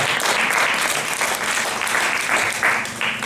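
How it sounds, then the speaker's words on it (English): A conference audience gives a round of applause for debate contestants, a loud, dense wash of clapping that holds steady across the whole moment with no talk over it. "can we give our contestants a round of applause?"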